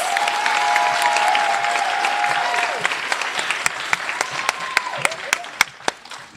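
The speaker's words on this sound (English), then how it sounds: "Please give them a round of applause." Audience applause fills a nursing pinning ceremony for graduates, steady dense clapping that thins toward the end into scattered individual claps, with a faint tonal voice or tone early on.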